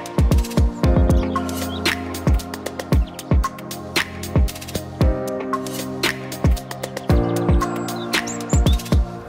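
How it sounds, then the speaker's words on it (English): Chickens in a garden plot being dug for a wildlife pond cluck and chirp steadily, with many sharp, close calls overlapping in a busy, loud flock chatter. "The chickens then helped to clean up the slugs"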